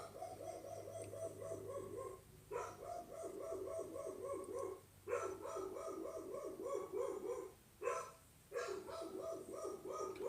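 A dog barks frantically indoors in long, near-continuous volleys with only brief pauses, loud and close, apparently reacting to someone arriving at the door.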